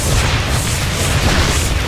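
Photon cannons fire in a StarCraft II match, a dense continuous roar of booming blasts and bursts, loud and close with no gaps.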